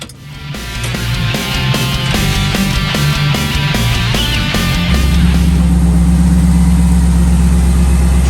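A rebuilt LS2 V8 in a 1966 Chevrolet C10 pickup runs close and loud, its idle shifting at first and then settling into a steady, deep drone, with no talking.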